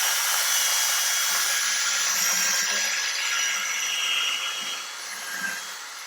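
A power drill spinning a brush attachment scrubs a car wheel around the bolt and wheel nut, a steady loud whirring hum with a scrubbing hiss that eases slightly toward the end, with no speech.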